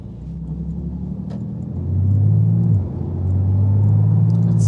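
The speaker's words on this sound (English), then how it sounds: "It's so loud, it's so rumbly at the low RPMs." A Porsche GT2 RS engine rumbles deep and loud at low revs on a rainy drive, the throb swelling as the throttle opens, easing briefly, then building again.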